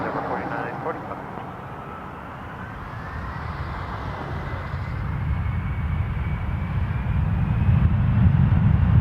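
Jet aircraft taking off from Toronto Pearson Airport, its engine roar growing steadily louder and deeper over several seconds, with air traffic radio voices speaking over it.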